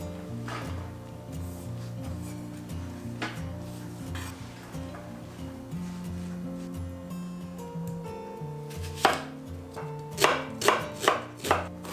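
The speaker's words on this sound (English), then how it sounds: "So I cut my spinach and the onion." A knife chops spinach and onion on a board for Turkish boreks. After a quiet stretch with a low background hum, a quick run of sharp, close chops comes near the end.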